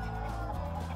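Several chickens, including Shamo, Araucana and Ameraucana-type birds, cluck and squabble close by in a coop, a steady low chatter of fowl over the full second with no talk.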